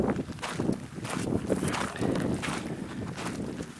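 Wind gusting outdoors on a trail, a loud, rough rushing that buffets the microphone in waves and carries on steadily, with no talking.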